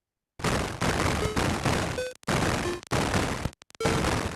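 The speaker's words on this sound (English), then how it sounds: "the firing sounds really good and explosions" Tandy CoCo video game sound effects: bursts of harsh, noisy gunfire and explosions from the computer's sound output, loud and dense in several blocks broken by brief gaps, with no talking.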